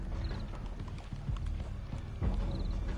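Horse hooves clop in Sherlock Holmes: The Devil's Daughter on PS4, a steady run of close, fairly loud hoof strikes over a busy, textured game soundscape, with no voices.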